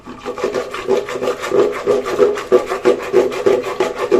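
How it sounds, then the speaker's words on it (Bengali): Cooked lentils (dal) being mashed smooth by hand for a Barisal-style dish, a steady rhythmic rubbing and squishing, close and fairly loud, repeating about twice a second with no talk. "ভালোভাবে ঘুটে নিতে হবে, ডালটা একদম মিহি হয়ে যাবে"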